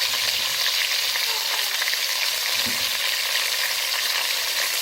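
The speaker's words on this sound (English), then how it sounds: "Just put it there and then let it cook as it releases its own oils." Chicken pieces frying in a pan in their own released oil, giving a loud, dense, continuous sizzle that holds steady throughout with no talking.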